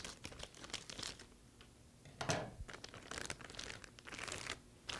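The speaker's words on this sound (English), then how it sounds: "We will go ahead and cut open the plastic." Plastic wrapping around an Oki C920wt white toner cartridge is cut and pulled open, giving close crinkling and tearing rustles with a sharper rip partway through and no voices.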